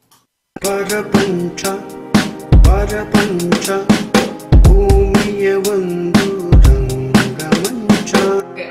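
A synthesizer plays a sustained eight-bar chord progression, like pads, over a thumping low drum-loop beat. A voice speaks briefly near the start.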